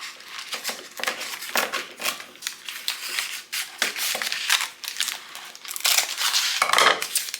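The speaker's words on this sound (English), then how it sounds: "I'm going to cut them long ways" A knife cuts fruit lengthwise in a home kitchen, giving a series of sharp, close taps and scrapes against a cutting surface at an irregular rhythm, with short pauses between cuts.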